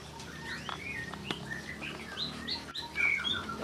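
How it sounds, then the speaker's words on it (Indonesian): Canaries in an aviary give bright, quick chirps and short twittering calls, close and fairly faint, with no voices. "Nah, ini kenari di sini."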